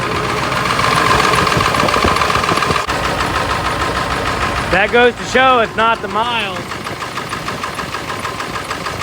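A high-mileage Ford 7.3 Powerstroke diesel truck engine with big injectors idles roughly nearby with a lumpy, knocking rumble, while someone speaks briefly over it partway through.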